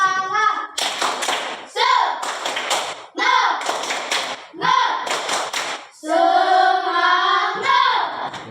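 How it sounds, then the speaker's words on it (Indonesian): Elementary schoolchildren in a classroom at SDI Sano Nggoang perform the rhythmic 'tepuk semangat' clapping chant: sharp bursts of group claps alternate with loud chanted voices in a steady, patterned rhythm. "Tepuk semangat."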